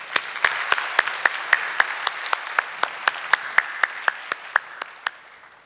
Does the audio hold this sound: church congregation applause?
yes